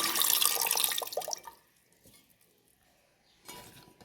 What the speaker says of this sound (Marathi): कुकरमध्ये आपल्याला आवडीनुसार आमटीला पाणी ठेवावे.